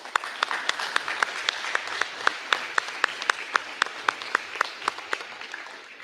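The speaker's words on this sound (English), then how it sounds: "All right, let's give this group a round of applause." Sparse, steady claps at an eighth-grade awards ceremony, distinct individual hand claps in an even rhythm, fairly quiet and slightly distant, with no talking over them.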